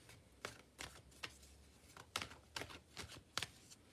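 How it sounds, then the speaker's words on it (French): Tarot cards pushed and slid across a table during a reading, giving a series of soft, close brushing and tapping sounds at an uneven pace in a quiet room. "je vais pousser un peu les cartes"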